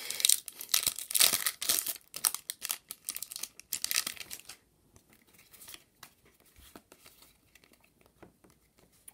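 Crinkly, tearing plastic of Dollar Tree Pokémon Cosmic Eclipse booster pack wrappers being ripped open, a loud dense rustle for about four seconds, then softer scattered crinkles and handling noises.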